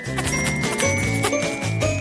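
A cartoon bell coming out of a wall jingles in a short, bright, tinkling burst over background music.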